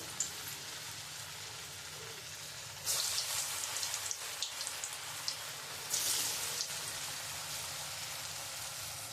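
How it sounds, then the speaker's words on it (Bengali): Green banana kofta balls drop into hot oil, the frying surging into louder crackling bursts as each batch goes in, then settling into a steady close sizzle; no voices. "আমার তেলটা গরম হয়ে গেছে। আমি ঠিক এইরকমভাবে করে নিয়েছি। আমি এবারে তেলে ছেড়ে দেব।"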